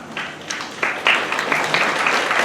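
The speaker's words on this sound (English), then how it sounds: "That was the most sad applause ever." Sparse applause from a small audience, a handful of scattered claps trickling in and building slightly, thin and uneven rather than a full ovation.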